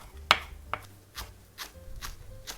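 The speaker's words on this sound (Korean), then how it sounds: "요거요 돌돌 말아가지고 그냥 채 썰어 줄게요." A knife cuts rolled perilla leaves into thin strips on a cutting board, giving a series of six or seven soft, quiet chops at an irregular, unhurried pace, with no talk.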